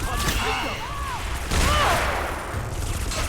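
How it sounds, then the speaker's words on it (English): A spell blast in the Harry Potter Deathly Hallows video game, a series of sharp cracking bursts with whooshing, tonal swoops layered over a busy, loud game backdrop. "I used Expelliarmus"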